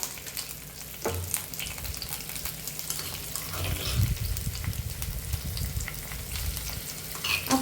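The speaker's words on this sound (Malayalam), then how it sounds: "വെളിച്ചെണ്ണ ഒഴിച്ചു കൊടുത്തിട്ട് നമ്മൾ ഉള്ളി ചതച്ചതൊക്കെ ഇട്ട് കൊടുക്കാം കേട്ടോ" Crushed onions and curry leaves fry in hot coconut oil, giving a steady close crackling sizzle with occasional stirring scrapes and clicks throughout.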